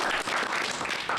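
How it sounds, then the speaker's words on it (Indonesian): An open mic comedy show audience in Maluku claps in a brief, dense burst, a steady wash of many hands at moderate loudness. "Beri tepuk tangan untuk kalian."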